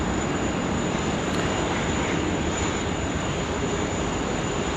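Hainan Airlines Airbus A330 taking off at Sydney Airport, heard as a steady, loud broadband jet engine roar that holds without pause, with no talk over it.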